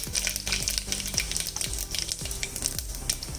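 Mustard seeds, cumin and asafoetida sizzle in about five spoons of hot oil for Kolhapuri misal, a close, loud, frothy crackle with bright popping seeds and low rhythmic stirring knocks underneath.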